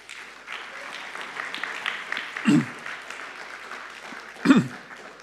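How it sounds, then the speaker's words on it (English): Audience applause at a talk on mouse rejuvenation and aging research, a steady moderate patter of clapping through the whole stretch, with two brief louder low thumps partway through. "Round of applause."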